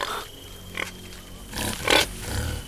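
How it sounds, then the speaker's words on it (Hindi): Wild boar grunting in a film scene, a few rough low grunts and snorts in short bursts at moderate distance, with no talk over them. "जंगली सुअर।"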